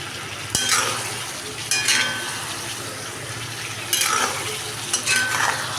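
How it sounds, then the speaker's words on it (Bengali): Kofta and potatoes fry in a pan, a steady sizzle running throughout, while a spoon stirs and scrapes against the metal in several clear bursts; the cooking is close and fairly loud. "এটাকে এখন আবার একটু ভাজা করব।"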